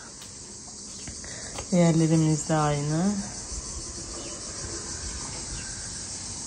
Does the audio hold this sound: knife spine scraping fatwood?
no